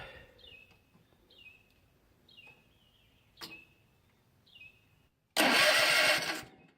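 A riding lawn mower engine, just after its starter solenoid was tested and repositioned, is preceded by quiet clicks and chirps. It then bursts into a loud, close roar lasting about a second before dropping away.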